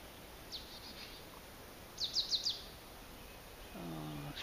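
A small bird chirps faintly, a few quick high tweets in a short run, in a quiet outdoor setting with a soft hum.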